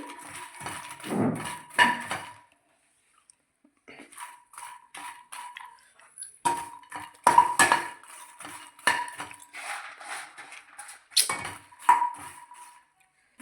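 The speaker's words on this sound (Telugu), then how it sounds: "తర్వాత మళ్ళీ ఇందులోనే తామర గింజలను వేడి చేసుకోవాలి." Lotus seeds being roasted in a pan, with metallic clinks and rattles of a utensil stirring against the pan in irregular bursts, close by, with a short pause partway through.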